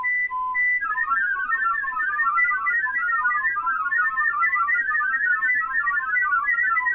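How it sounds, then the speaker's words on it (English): Olivia digital radio mode tones played from a sound card, a steady stream of rapidly hopping whistle-like beeps warbling within a narrow pitch band, clear and continuous throughout. "Let me play another Olivia mode, Jeremy, and listen for it. It's a different Olivia."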